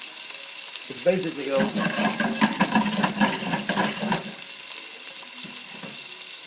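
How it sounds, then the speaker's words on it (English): Food sautéing in a pan until golden brown, a steady sizzle and stir that swells for a few seconds and then eases off, with a voice talking over it. "All you want to do is just saute it enough to where it gets golden brown on one side"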